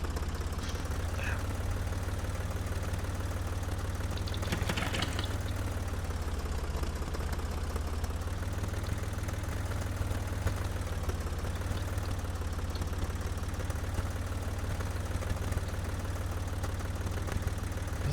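Tractor engine idling in the Professional Farmer 2014 farming game, a steady low rumble running continuously at moderate level, with brief clatter mid-clip.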